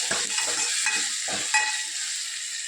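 Onions and green chilies go into hot oil for a sambar tempering and sizzle in a steady, bright hiss. Stirring clatters in softly now and then.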